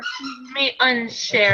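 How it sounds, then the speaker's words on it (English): A dog yelps and whines in short, excited bursts, close by, while a person speaks over it. "I'm so sorry if you can hear my dog going nuts in the background"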